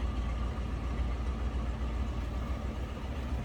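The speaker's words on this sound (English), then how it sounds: "I think that's what you'd expect, a nice stock 289 to sound like." A 1966 Ford Mustang convertible with its stock 289 V8 idles in a smooth, steady, low rumble, fairly quiet and unbroken with no talking.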